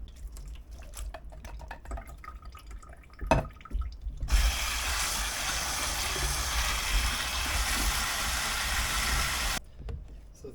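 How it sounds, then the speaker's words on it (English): Canned cannellini beans are rinsed in a sieve under a running kitchen tap, a steady loud rush of water that starts abruptly after some quiet clatter and stops near the end. "we're going to put it into a sieve and rinse them really well"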